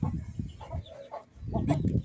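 Chickens cluck inside a chicken house on a farm, with bursts of close, loud clucking and squawks, a brief lull, then another busy flurry of calls.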